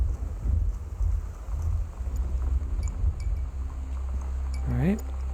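Rainstorm with thunder in the video game Gone Home: a low rumbling storm and steady rain wash, moderately quiet, with a brief higher sweeping tone near the end.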